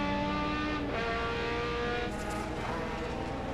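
BMW 325i touring race cars at Mosport in a 2003 World Challenge race, braking hard into Moss corner, a loud steady engine roar with a falling pitch as the cars slow, heard from close by.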